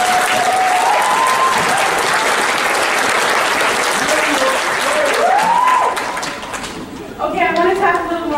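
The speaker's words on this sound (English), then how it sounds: "I just want to give a round of applause to everybody that's here and graduating" Sustained applause from a graduation audience at Leech Lake Tribal College, dense and loud for several seconds with occasional whoops, then fading as a voice begins speaking near the end.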